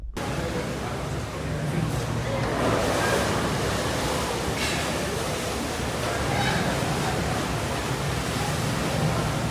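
Strong wind roars steadily alongside crashing, rushing rough sea waves on a cruise ship's pool deck in rain, a loud, continuous broadband wash with gusty surges throughout.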